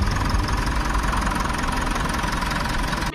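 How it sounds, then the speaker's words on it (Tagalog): A car engine idles steadily while warming up before a remap, a constant loud rumble with faint knocking vibration and no talk. "Painitin daw muna makina bago i-remap."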